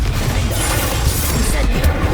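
Confringo explosive spell fired in Hogwarts Legacy during a goblin hideout fight: a continuous dense rumbling blast with crackling bursts and booming low end, loud and close throughout.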